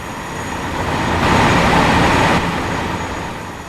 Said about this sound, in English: Those trains really are loud. I had to stop talking as I go past.